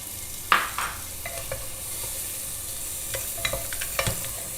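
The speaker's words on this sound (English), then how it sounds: "Now I'll put my onion to my wok." Sliced onion hitting a hot wok for a burnt chilli garlic mushroom soup: a sudden sizzle burst, then a soft steady hiss with a few light scrapes and taps of stirring, close and without voices.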